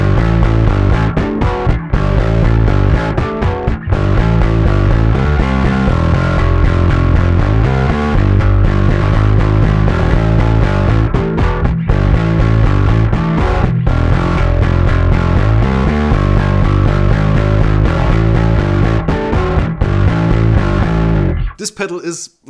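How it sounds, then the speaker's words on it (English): Bass guitar played through a heavily modified distortion pedal based on the Pro Co Rat, a loud, dense, gritty and sustained tone with continuous riffing that cuts off abruptly at the end. "a distortion based on the legendary Proco Red, but heavily modified to meet our bass players' needs"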